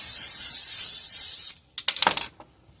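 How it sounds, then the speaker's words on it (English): Cooking spray hisses into a bowl in one steady, close burst lasting about a second and a half, followed by a few short clattering knocks as the can and bowl are handled. "You want to spray your bowl."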